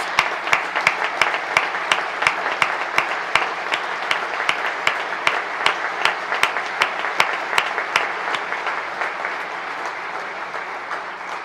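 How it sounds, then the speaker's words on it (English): Broad, sustained applause from the audience at a governor's State of the State address, a dense wash of many hands with sharper individual claps standing out, fairly loud and steady throughout before easing slightly at the end. "Students, give yourselves a round of applause."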